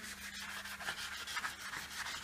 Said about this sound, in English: And Kurt is just sanding away.